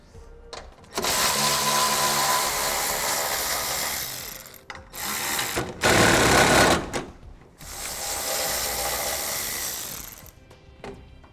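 A power tool whirs and rattles in several long bursts as it removes the bolts from a car's main cross support, with a short pause between runs and clicks of the tool at the end.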